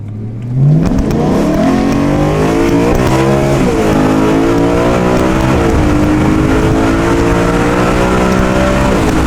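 A high-performance car revs hard nearby, its engine note climbing and dropping through several loud downshifts in a continuous, sustained roar with no talking.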